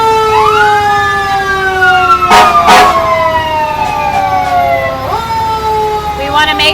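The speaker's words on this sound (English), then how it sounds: "I'm going to let the sheriff's office take it away for a little bit with their sirens" Sheriff's office vehicles sounding their sirens at a July 4th parade in Harrisburg, loud rising and falling wails overlapping close by, with two sharp horn blasts in the middle and crowd noise underneath.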